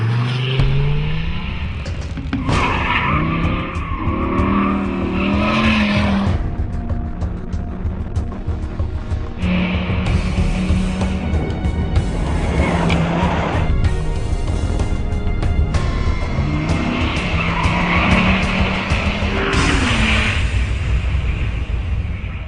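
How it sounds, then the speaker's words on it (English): Dodge Viper ACR with a 600-horsepower V10, rear-wheel drive and Michelin Cup tires, driven hard on the Laguna Seca track, its engine repeatedly revving and shifting through loud climbing and falling pitches. "Randy, you've just driven the most powerful car here, the Dodge Viper ACR, 600 horsepower V10, driving those rear wheels, Michelin Cup tires"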